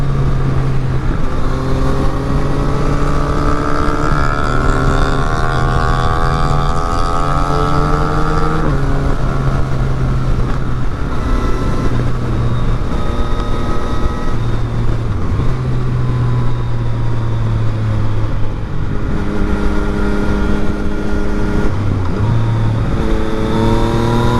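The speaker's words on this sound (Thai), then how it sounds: "เสียงสามสูบมันพร้อมากเลยครับ เสียงเอกลักษณ์เลยสามสูบ" A Yamaha MT-09 three-cylinder motorcycle engine runs loud and close, its exhaust note rising and falling through repeated revs and gear changes in a raspy, continuous drone.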